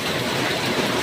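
Steady rain falling on a rainy morning, a dense continuous hiss of drops filling the brief moment with no pauses or voices.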